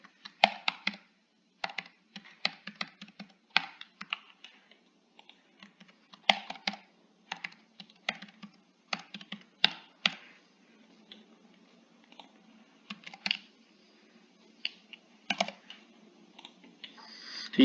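Fingers type on a computer keyboard in quick bursts of crisp keystrokes separated by short pauses, close and fairly quiet with no talking.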